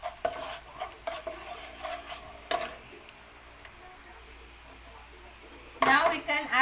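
Garlic sautés in a pan for Filipino beef steak tagalog: intermittent utensil scrapes and stirring over a soft sizzle, ending in a louder burst of frying.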